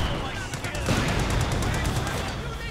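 Dense sniper and machine gun fire in a Company of Heroes 2 multiplayer match, rapid rattling bursts over a loud rumbling battle bed with a voice talking over it.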